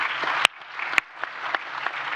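A seminar audience claps briefly after a panelist finishes remarks on financial inclusion, the dense applause broken by a few sharp claps and quickly thinning out.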